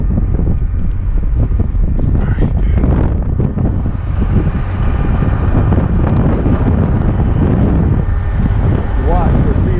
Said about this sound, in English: The wind blowing really hard and there's a serious wind chill.